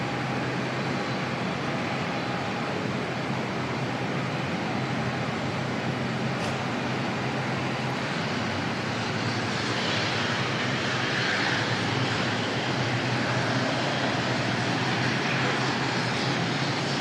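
Aircraft at Auckland Airport taxiing toward the end of the runway after landing, a steady broad jet engine roar heard from a distance throughout, continuous and unbroken with no voices.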